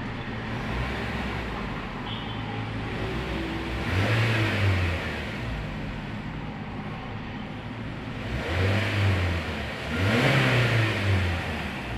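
A 1.2-liter naturally aspirated i-VTEC engine in a 2019 Honda Brio revs in three rising blips over a steady idle hum, heard close without talk.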